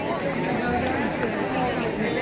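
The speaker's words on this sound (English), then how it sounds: "just look at the massive crowds up here at the square" A massive crowd packs a town square before a Christmas parade, its dense murmur of overlapping voices and footsteps steady and close, with a person speaking over it.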